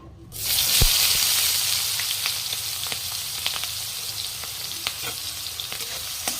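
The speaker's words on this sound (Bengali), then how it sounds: "পেঁয়াজটা একটু ভালো করে ভেজে নেব।" Chopped onions frying in a pan for a beef, pui shak and potato curry, a steady broad sizzle with scattered crackles and pops that swells right after they hit the oil, no talking.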